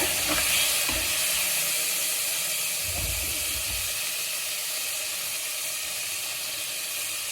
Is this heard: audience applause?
no